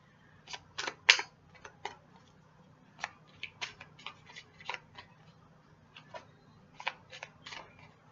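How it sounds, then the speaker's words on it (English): Tarot cards being shuffled by hand, a series of crisp papery riffles and taps coming in uneven clusters, close and fairly quiet against a low background hum. "I'm going to shuffle again and see if we should."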